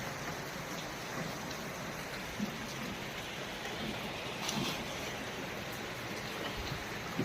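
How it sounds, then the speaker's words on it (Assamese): Steady rain falling outside a small roadside pani puri stall with a bamboo table, an even continuous hiss with occasional louder drops, no talking. "বৰষুণ দি আছে।"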